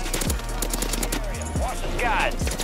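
Shotgun fire in Call of Duty Warzone, sharp booming shots with a few spaced blasts over constant game noise and engine hum, while a voice talks in the background.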